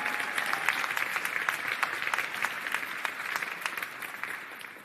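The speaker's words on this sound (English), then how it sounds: "Let's leave them with a big, thunderous applause." A large conference audience at an Amsterdam awards session breaks into dense, sustained applause, loud and even throughout before tapering slightly at the end.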